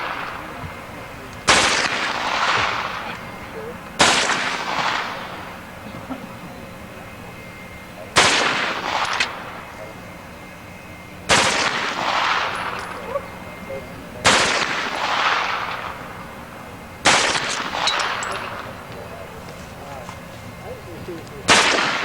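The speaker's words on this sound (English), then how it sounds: "Just push it all the way down. There you go. All right. So rock and roll, Eddie. Okay. Short bursts." A machine gun fires seven loud, sharp bursts at irregular intervals, each cracking report trailing off into a long echoing decay before the next.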